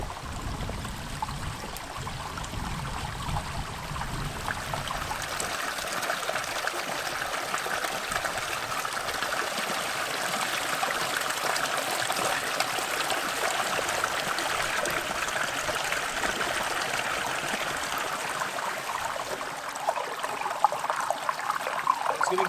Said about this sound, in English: Figured I'd give this little mountain stream a try.